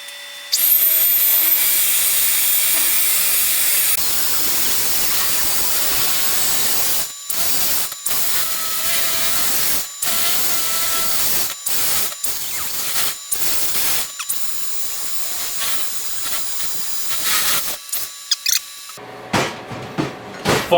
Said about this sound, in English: Let's get that mixer back out.